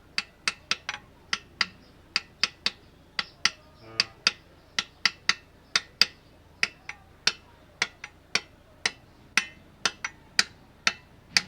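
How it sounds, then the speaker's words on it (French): A hammer taps repeatedly on the injection pump of a Volvo F12 truck, giving sharp metallic knocks close by in an irregular but steady series of roughly three dozen strikes. "je prends les marteaux et je vais taper ici."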